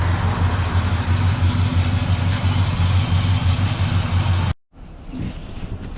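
A 1965 Chevrolet Biscayne engine idles with a loud, steady low rumble close by for several seconds, then cuts off abruptly, leaving faint background sound.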